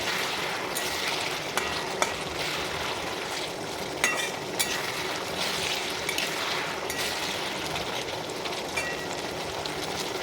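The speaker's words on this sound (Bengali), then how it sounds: "সিদ্ধ হয়ে গেছে আলু। এটাকে নেড়ে দিতে হবে একটু ভালোভাবে।" Boiled potatoes are stirred in a pot as the water cooks down for aloo dum, a continuous bubbling sizzle broken by scattered clinks and scrapes of the spoon.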